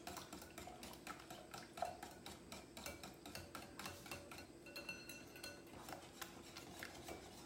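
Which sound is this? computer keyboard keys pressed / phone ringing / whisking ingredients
whisking ingredients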